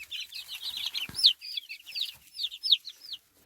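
Two-month-old turkey chicks chirp and cluck in rapid high-pitched bursts, several birds calling close by in a busy continuous chatter, with no talking.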